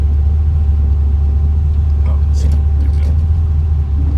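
A 1969 Chevrolet Camaro restomod idles steadily in reverse, a deep constant engine rumble close by with a brief faint squeak or clunk partway through.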